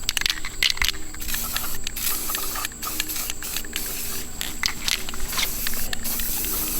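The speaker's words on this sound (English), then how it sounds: "You only want to paint the actual trap itself white, which we're ready to do now." Spray can hissing as white paint goes onto a steel animal trap outdoors, several close bursts of varying length with short gaps, steady and fairly loud, no voices.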